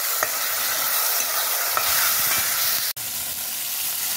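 Saltfish sizzles in a hot pan for Jamaican cashew apple and saltfish, giving a steady loud frying hiss with a few faint scrapes of stirring and a brief dropout near the end, with no talking.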